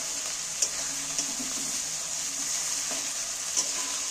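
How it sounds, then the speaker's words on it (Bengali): Onions sizzling steadily in hot fish oil in a pan, a constant close hiss with a few sharp spatters and faint scraping as they are stirred, no voices. "এইবার এই পেঁয়াজের সাথে একটু নাড়তে থাকবে, নাড়লেই কিন্তু এ থেকে তেল বেরিয়ে থাকবে।"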